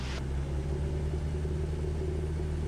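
A light aircraft engine runs at steady takeoff power during a high-speed taxi, a constant low droning rumble throughout.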